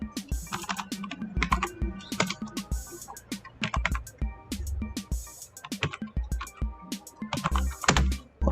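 Quick irregular clicks of fingers typing on a computer keyboard, close and clear, with bursts and short pauses and no talking.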